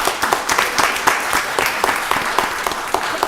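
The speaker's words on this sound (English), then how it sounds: "Give her a round of applause." A meeting audience at a county board of commissioners session gives a short, dense round of clapping, close and steady throughout.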